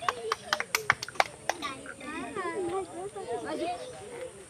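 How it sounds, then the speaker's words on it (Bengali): A group claps hands in unison several times, sharp and close at the start, during a blindfolded bottle-drinking challenge with children; voices chatter and shout over and after the claps. "সবাই একটু হাতে তালি একসাথে"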